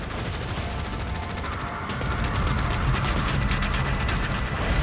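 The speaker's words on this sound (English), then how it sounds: "Artillery fire on our position." Artillery fire in Tom Clancy's EndWar rumbles as a dense, continuous barrage of crackling blasts and mechanical clatter, growing slightly louder partway through.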